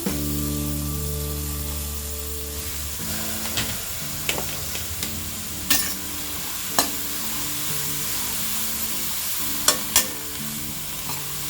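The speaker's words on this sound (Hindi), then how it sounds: "इसमें हम ये धुली हुई कैबेज डालेंगे।" Washed cabbage goes into a hot pan with turmeric for a Gujarati-style sabzi, setting off a steady, close sizzle and hiss. Occasional scraping clicks from stirring sound over it, and nobody speaks.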